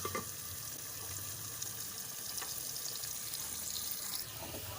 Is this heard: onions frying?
yes